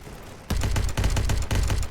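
Gunfire from soldiers in the battle game Ancient Warfare 3, a rapid, loud fusillade of repeated shots in rhythmic bursts that begins abruptly after a short quiet moment.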